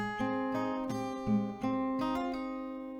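Clean plucked acoustic guitar notes from a song, single picked tones and small chords played slowly one after another, ringing close and clear with no voices.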